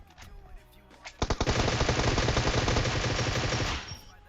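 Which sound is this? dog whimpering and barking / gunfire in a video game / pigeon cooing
gunfire in a video game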